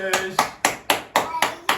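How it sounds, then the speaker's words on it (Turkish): Six sharp hand claps by a child in a steady, evenly spaced rhythm, close by and fairly loud, with no talking between them. "Bakın benim kızım şimdi alkış yapacak."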